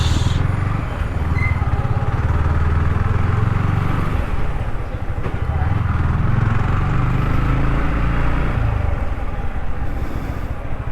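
A Yamaha MT-15 BS6 motorcycle engine drones steadily at close range on a Mumbai street, its low throb rising and falling slightly under heavy wind noise throughout.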